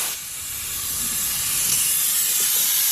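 Pressurized coolant mist hisses steadily from the cooling system of a Volvo semi truck during refilling, a close, continuous broadband spray that swells slightly louder over a few seconds with no talking.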